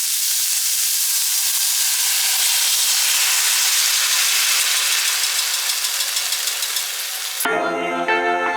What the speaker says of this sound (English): Also going to add the sauce now to the beef so the sauce can thicken up with the cornstarch